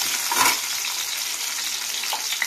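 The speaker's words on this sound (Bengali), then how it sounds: "দিয়ে লাল লাল করে এটা ভেজে নেব।" Potato pieces fry in hot oil for a soybean malai curry, a close, steady hiss of sizzling with a brief stirring burst near the start and no talk.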